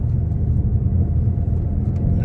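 Ford Mustang GT350 engine rumbling steadily and loudly from inside the car during downshifting practice, a continuous low drone with no clear revs standing out.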